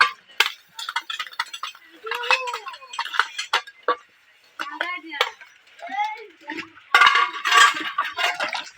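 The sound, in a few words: dishes being washed after a picnic meal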